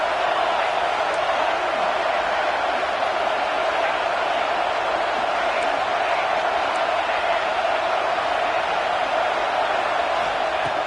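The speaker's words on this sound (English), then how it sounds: "It's early, but this crowd is fired up. Listen to this noise here." A college football stadium crowd roars in a steady, dense wash of cheering that holds at a constant loud level throughout, with no distinct voices standing out.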